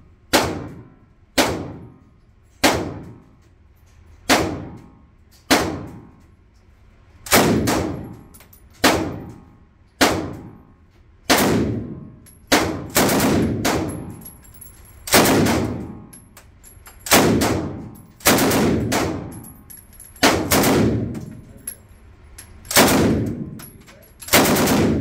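Bren MK2 light machine gun in .303 British firing on full auto at a range, loud close bursts and single cracks repeating steadily with brief pauses between strings, no talking.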